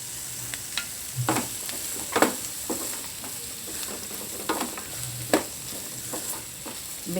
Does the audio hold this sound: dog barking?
no